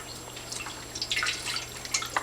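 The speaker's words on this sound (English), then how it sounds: "Now we are going to fill the fountain up with water." Water trickles and drips into a Drinkwell 360 stainless steel pet fountain as it is filled, a faint, steady splashing patter with a soft background hum.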